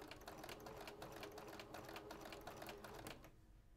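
A sewing machine stitching quilt pieces for flying geese blocks runs in a fast, even needle rhythm for about three seconds, then stops; faint and close, with no talking.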